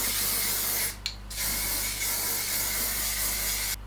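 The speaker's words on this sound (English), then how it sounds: "whenever I apply hairspray to my hair, is that I just kind of like take my hair like this, and then I spray the hairspray" Hairspray from a nearly empty can sprays onto freshly blow-dried fine hair in a long, steady, close hissing burst. A brief pause around the one-second mark breaks it before it resumes, and a second short burst comes at the end.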